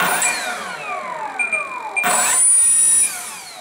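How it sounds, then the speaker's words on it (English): A Durafly Fast Poke RC jet spins up, its front propeller whining first and then the 70mm electric ducted fan joining with a louder, rising high-pitched whine that holds steady, close and alone. "once I put just a little throttle, first the propeller will start, and then the EDF"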